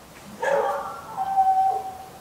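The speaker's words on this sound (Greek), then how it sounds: "Συμφωνεί ο σκύλος." A dog gives a short whining bark followed by a drawn-out, high howling whine nearby, a single vocal outburst lasting under two seconds in a quiet room.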